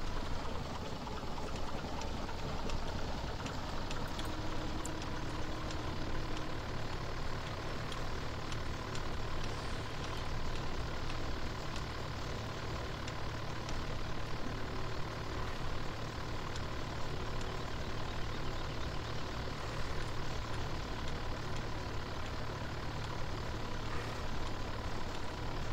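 A tractor engine runs steadily in Farming Simulator 17, a continuous low idling drone with a faint tonal whine, even and unbroken for the whole stretch with no talk.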